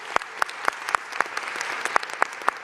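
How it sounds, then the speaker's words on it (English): Applause at the opening of the Shirley Chisholm Recreation Center, dense clapping punctuated by several sharp, evenly spaced louder claps close by. "Let's give them a round of applause."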